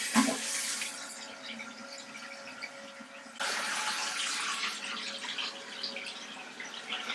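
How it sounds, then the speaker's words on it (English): Water runs steadily with a broadband rush, growing louder and fuller partway through as the flow increases, like a toilet tank filling, with no talking. "now we're just going to turn the water on."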